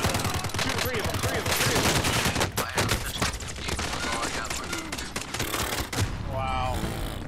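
Dense gunfire in a shooter video game: continuous rapid bursts and overlapping shots fill the whole stretch, loud and near, with voices talking over the shooting.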